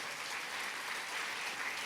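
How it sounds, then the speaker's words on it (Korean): A church congregation claps together in sustained, even applause heard from within the room, steady and moderately loud with no break. "우리 어버이들 향해서 큰 박수로 감사합니다."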